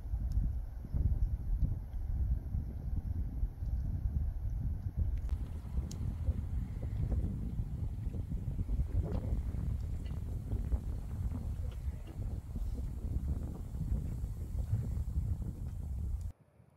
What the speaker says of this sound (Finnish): Tuuli vaan täällä humisee.